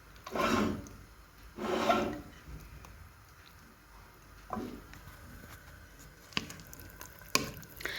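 Couscous berbouche is stirred in a pot, with two soft scraping sweeps near the start followed by quieter rubbing and a few sharp knocks against the pot.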